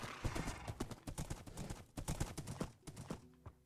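Rapid clip-clop of horse hooves in Minecraft, a steady galloping rhythm, clear and close, with no talking.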